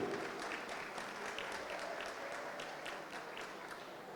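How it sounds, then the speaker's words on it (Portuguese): An audience at a lecture in São Bernardo do Campo applauds steadily, a soft, distant patter of many hands clapping at an even level from start to finish. "Obrigado pelas palmas"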